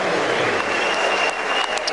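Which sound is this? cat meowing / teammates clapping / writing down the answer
teammates clapping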